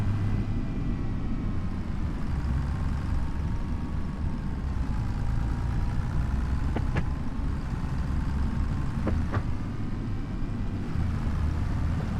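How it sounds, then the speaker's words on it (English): A tractor's engine idles steadily while parked in front of a barn on a plateau, a low, even rumble with no changes in pace, and a couple of faint clicks partway through. "I'm gonna leave the engine running."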